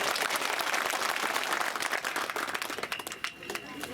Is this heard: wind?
no